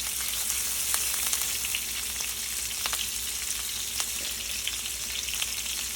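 Pork chops sear in hot oil and garlic butter, a dense, steady close-up sizzle with frequent small pops and spatters throughout and no voices.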